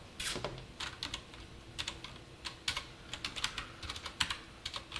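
Rapid, irregular clicking of a computer keyboard as code is typed, crisp key taps close up in uneven bursts with no talking.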